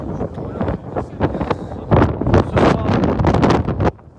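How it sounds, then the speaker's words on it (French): Strong wind buffets an outdoor microphone in a French street setting, gusty rumbling bursts that swell and drop irregularly and end abruptly. "Il y a beaucoup de vent, je crois que la pluie va pas tarder à arriver"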